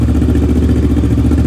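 Motorcycle exhaust from a Harley-Davidson Sportster S or Kawasaki Versys 650, a steady loud close-up engine idle with rapid pulsing, briefly rising, no talk.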